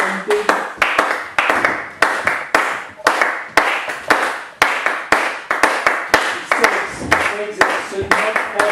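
Sharp hand claps repeat close to a microphone in a quick, fairly even series of about two per second for a sound check, each one crisp and loud.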